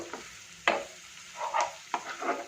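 Ginger garlic paste frying and being stirred in a pan for a restaurant-style gravy, with a few separate bursts of sizzle and scraping close up, no talk.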